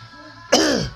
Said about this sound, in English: There's this like horrible like cough